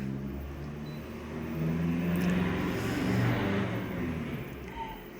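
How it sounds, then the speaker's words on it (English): A passing car with a bad, worn-out muffler gives a loud, rough, low exhaust rumble that holds steady and swells slightly in the middle of the stretch. "Someone's car sounds like it needs a muffler, a new muffler."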